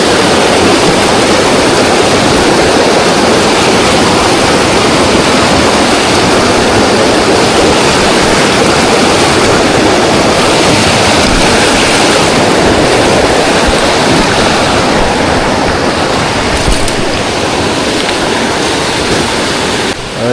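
Swollen creek in spring high water rushing past a log crossing on a northern British Columbia trail, a loud, unbroken roar of churning water that stays close and fills the whole scene with no voices.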